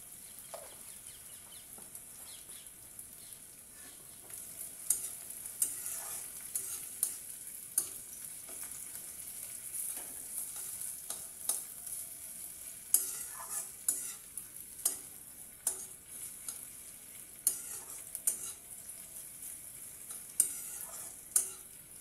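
Sliced onions slowly browning in a pan for a boal fish chorchori, giving a steady close sizzle throughout with frequent scraping and clacking from stirring, and no voices.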